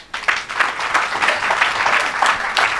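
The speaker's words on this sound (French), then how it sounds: "Acclamez le Seigneur" A church congregation applauds together, a dense, steady burst of clapping from many hands close by that holds evenly throughout.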